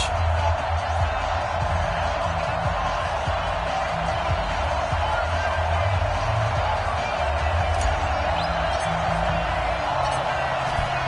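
Steady roar of a packed football stadium crowd at a Jacksonville Jaguars versus Carolina Panthers game, a dense, continuous wash of cheering voices held at an even level for the whole stretch, with no single voice standing out.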